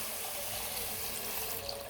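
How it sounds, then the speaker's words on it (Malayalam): Water being poured into fried chilli in a pan for a fish curry makes a steady, close rushing splash that runs unbroken throughout. "എന്നിട്ട് നമുക്ക് വെള്ളം ഒഴിച്ചു കൊടുക്കാം"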